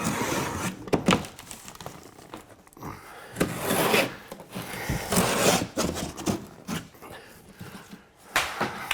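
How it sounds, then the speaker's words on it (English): Drywall being cut back in a basement during framing work, irregular scraping, tearing and crunching strokes in short bursts with brief pauses, fairly close. "Now it's just a matter of cutting this drywall back."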